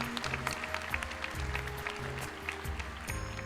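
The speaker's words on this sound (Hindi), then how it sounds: "जोरदार तालियां सभी की ओर से, पूरे स्टेडियम की ओर से करतल ध्वनि से अभिनंदन" A large stadium audience claps together in sustained, dense applause at a spiritual gathering, steady and loud throughout, with a low hum of crowd and amplified room sound beneath.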